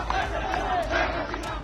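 A large street crowd of protesters in Dhaka chants slogans in support of Sheikh Hasina, a loud dense roar of voices with rhythmic pulsing shouts.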